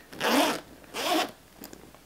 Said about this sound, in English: I'll let you see the zipper on this side.